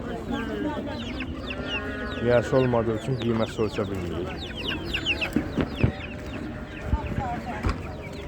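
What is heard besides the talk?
chicks at a poultry market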